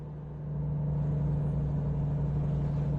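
A big rig's engine in the driving game American Truck Simulator holds a steady, loud, low drone at highway cruising speed, with a constant hum and no talk.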